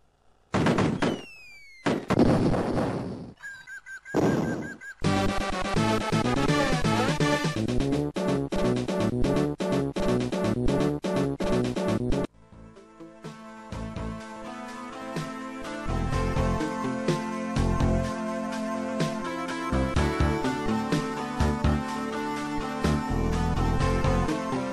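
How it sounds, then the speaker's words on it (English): Gunfire in the Amiga game Cannon Fodder crackles in fast, repeated bursts of sharp electronic shots, loud and continuous over game music, with brief pauses between volleys. "press that fire button and fire wildly using the crosshair over your target"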